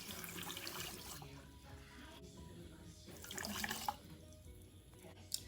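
Cold water poured into a pitcher for Southern sweet iced tea, a steady splashing, gurgling stream that swells louder near the end before tapering off.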